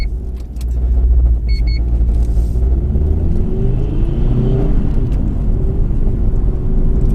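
A 2002 Subaru WRX STi Prodrive Edition engine rumbles and rises through a sustained rev from inside the car, loud and close, with a brief small clicking early on and no talk.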